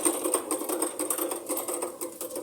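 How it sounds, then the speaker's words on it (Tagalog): Sewing machine at a market stall stitching trousers, a fast mechanical rattle with rapid rhythmic needle strokes, steady and fairly close, briefly easing and then resuming. "Ayan o, nagtatahi ng pantalon."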